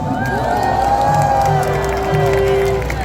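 A large crowd at an outdoor political rally cheers and claps as a bereaved families' representative is welcomed, a loud continuous roar with whoops and sustained voices over dense applause.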